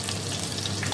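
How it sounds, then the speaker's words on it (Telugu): Ingredients including garlic for mint rice fry on a low flame, giving a steady, close hiss and sizzle that holds evenly for about a second. "అన్నీ ఇలా వేయించుకోవాలి సన్న మంట మీద ఒక 5 minutes."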